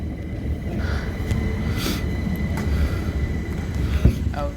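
A train departing Three Bridges station produces a steady low rumble with brief squeals and clanks near the end, audible against platform ambience with faint voices nearby.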